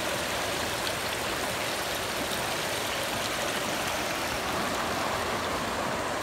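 A rural river flows steadily, a loud, unbroken rush of water close by with no voices or other sounds over it.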